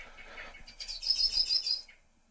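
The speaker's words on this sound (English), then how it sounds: "Sorry for the birds." Birds chirp outdoors in a quick run of bright, high tweets, about five in succession over roughly a second, moderately close but fairly soft, preceded by faint rustling background.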